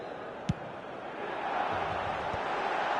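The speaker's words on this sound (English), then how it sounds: "but it certainly got the crowd going." Stadium crowd noise from a football video game fills the background as a steady, swelling roar that grows louder through the moment, with a single sharp thump near the start.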